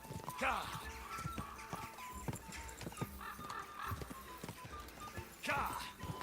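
Horse hooves gallop in Kingdom Come Deliverance 2 with a quick, steady clip-clop rhythm, a couple of whinnies breaking through, all fairly quiet beneath a voice.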